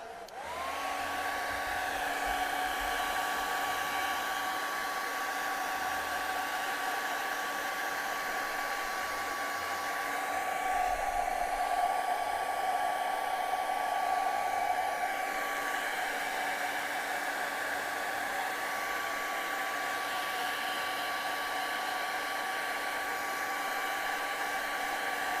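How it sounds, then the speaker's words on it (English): A hair dryer blows steadily on wet acrylic paint on a canvas, a loud continuous whine with an even airy roar that holds for the full stretch with no talk. "So we're going to blow dry that, because that should still be wet there for another like 10 minutes probably."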